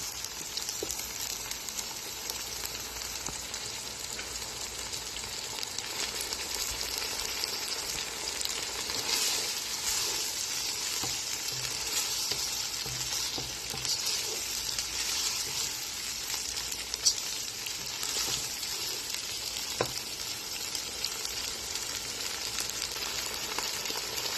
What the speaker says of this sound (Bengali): কিছুক্ষণ নাড়াচাড়া দেব। 1 মিনিটের মতো ভেজে নেব।